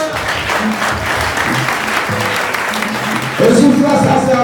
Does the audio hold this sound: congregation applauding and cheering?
yes